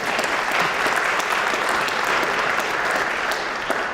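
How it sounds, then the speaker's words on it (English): An audience at a mayor's State of the City address giving a round of applause, steady and dense throughout, with no one speaking over it. "that's a round of applause"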